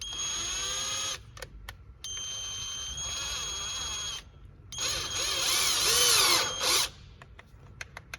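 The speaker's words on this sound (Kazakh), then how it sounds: "шуруповертқа қысырып қойдым да тросты. Енді айналдырам." Cordless screwdriver spinning a VAZ speedometer cable in several close bursts, a high whirring whine that stops and restarts, with the last run louder and rougher.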